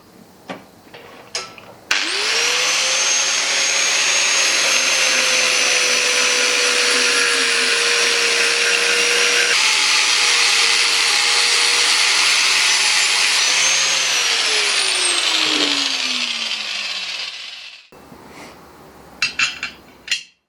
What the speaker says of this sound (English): Once both pieces are cooled off, clean off all the forged scale.